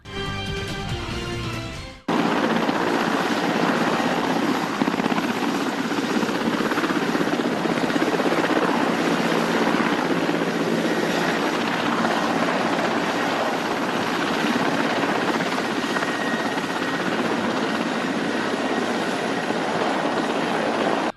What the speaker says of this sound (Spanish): un helicóptero Mi-8 de doble turbina y tamaño medio, perteneciente a la Fuerza Aérea de la India